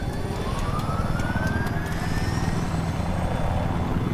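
An attack helicopter in the video game Battlefield 4 drones steadily with a rising whine over a loud, continuous rumble of rotor and engine noise, with no voices.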